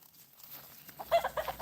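Backyard chickens clucking in short bursts, with a couple of brief, louder squawky calls near the end after a quiet start, in a small flock setting with a rooster around.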